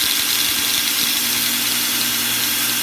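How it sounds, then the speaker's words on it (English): A 2x72 belt grinder runs a 36 grit sanding belt, a steady even motor hum with a faint whine, loud and close, unbroken throughout. "That's a piece of 36 grit sandpaper on a 2x72 belt grinder, and it's running just as smooth as can be."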